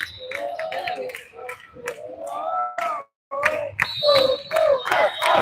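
A volleyball match crowd cheers and yells loudly in continuous bursts, broken by a brief pause, with whistles and shouts mixed in close by.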